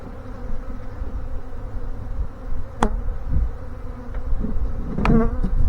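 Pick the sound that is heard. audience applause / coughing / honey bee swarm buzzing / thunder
honey bee swarm buzzing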